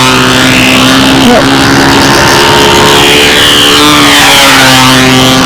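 A model airplane's small glow engine runs on its first flight of the year at a windy spring flying session, a loud, close, steady buzzing whine whose pitch wavers as the plane maneuvers.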